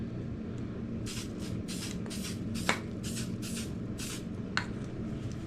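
Several short bursts of aerosol spray hiss, one after another in quick succession, over a steady background hum, during a small-block Chevy 350 engine build.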